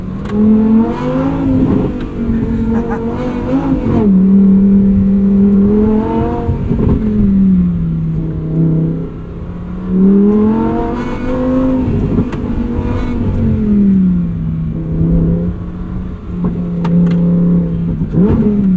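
A loud Lamborghini sports car engine revving up and down repeatedly, its pitch rising and falling in long sweeps, close and continuous with no talking.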